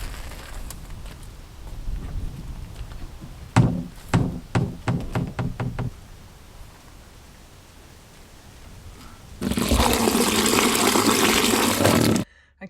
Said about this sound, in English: First to drain out what's currently in the grey water tank.